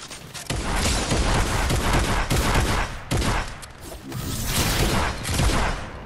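Dense, loud Fortnite gunfire, with rapid shots hammering almost nonstop and only brief gaps, alongside mechanical clatter from the game.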